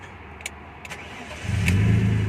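A 1997 BMW E34 520i with its original engine cranks after a few clicks and starts, settling into a steady, close, loud rumbling idle.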